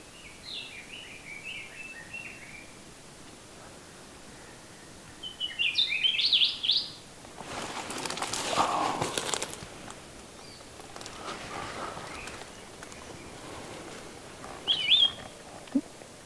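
Calls of a female Aki, a native Hawaiian bird, come as short high chirpy bursts, one brief series early, a stronger cluster, then a lone faint chirp later, amid broadband outdoor rustling and hiss.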